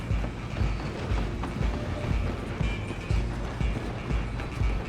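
A moving train in the video game Red Dead Redemption 2 rumbles steadily close by, its wheels beating a regular rhythmic clatter over the rails, with a faint galloping rhythm mixed in.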